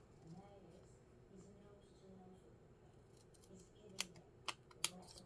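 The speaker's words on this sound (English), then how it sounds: "I'm aligning up so that I can cut my little banner end." Scissors snip through a paper card to cut a small banner end, three or four quick crisp clicks near the end, close and clear after a stretch of quiet handling and soft room noise.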